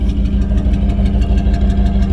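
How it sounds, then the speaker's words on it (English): A third-generation Camaro with aftermarket exhaust idles up close, a loud, steady low rumble with a quick pulsing beat and a slight uneven miss, and no voices over it. "There's my exhaust."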